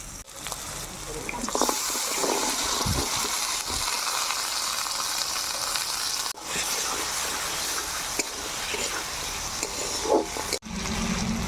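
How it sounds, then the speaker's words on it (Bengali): Jackfruit seeds go into spices frying in hot oil for a fish curry, giving a steady loud sizzle throughout, with brief stirring clatters and two short breaks in the frying noise. "মশলা ভাজা হয়েছে, এখন আমি এই কাঁঠালের বীজগুলো দিয়ে দেবো।"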